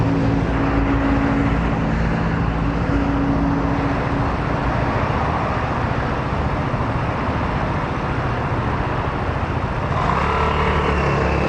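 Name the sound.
mopeds pulling away in traffic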